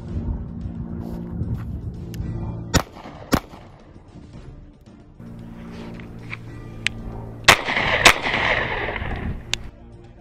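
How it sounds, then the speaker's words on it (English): Wilson Combat SFX9 pistol fired on an outdoor shooting range, sharp gunshots heard as several distinct loud cracks in irregular pairs over steady background noise. "Go ahead and break those shots."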